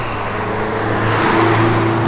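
A 1966 Dodge Charger with a crate 426 Hemi V8 and chrome exhaust tips revs steadily nearby, a loud continuous engine drone with a slight rise in pitch partway through.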